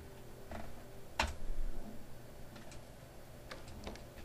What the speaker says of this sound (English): Not the greatest of typing.